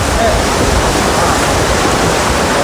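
Steady, loud roar of surf crashing and churning against rocks at Calayan Island, Cagayan, Philippines, continuous broadband wash with no distinct breaks, close by.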